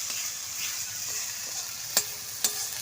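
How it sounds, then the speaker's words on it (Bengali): Spice paste with a splash of water frying in a pan, a steady close sizzle with two sharp spatula clacks near the end. "ভালো করে মশলাটাকে কষাতে হবে যাতে কাঁচা গন্ধ না ছাড়ে।"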